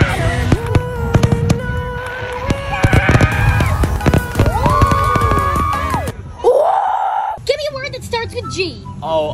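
A fireworks sound effect plays loudly, with whistling rockets, sharp bangs and crackling bursts layered with crowd-like screams and cheers, then a brief pause before more whistles.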